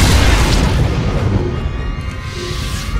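Heavy, rumbling explosions from overloaded generators on a foundry level in Star Wars: The Old Republic, a continuous loud boom-laden roar with no pause across the stretch.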